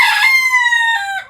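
A rooster at a poultry farm gives one loud, close crow. The call is drawn out and ends with a short trailing note, and nothing else is heard behind it.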